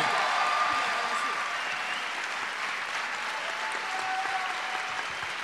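A studio audience on a French TV show claps in a dense, sustained ovation that stays fairly loud and even throughout, with a faint voice mixed in.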